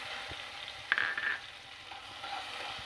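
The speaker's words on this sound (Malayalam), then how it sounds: "അപ്പം നമുക്ക് കാഷ്നട്ട് ഇട്ട് നമുക്കൊന്ന് ചൂടാക്കി എടുക്കാം." Cashew nuts frying in hot ghee in a pan, a soft, quiet, steady sizzle with a brief brighter burst near the start and faint scraping under it.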